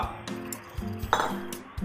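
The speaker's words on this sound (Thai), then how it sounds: "เอาเค็มไช่มา ใส่ในหม้อที่เราจะต้มนะครับ" Salted mustard greens go into a cooking pot with brine, giving a few light clinks and knocks of metal and dishware, close and fairly quiet.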